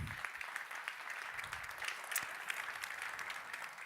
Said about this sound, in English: So let's welcome Piet Hein Eek with a big applause.